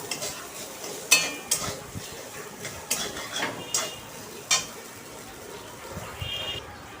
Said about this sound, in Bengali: আদাটাকে আমি খুব ভালো করে ভেজে নেব।